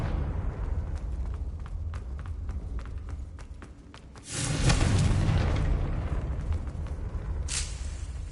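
A Confringo blasting curse explodes in Hogwarts Legacy: a deep, loud boom erupts midway and rumbles on for several seconds, after a run of quick footsteps, with a sharper burst near the end.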